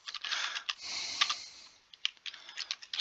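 Keys clatter on a computer keyboard while an object is renamed in 3D modelling software, bursts of close, crisp typing with a brief pause before another quick run of keystrokes.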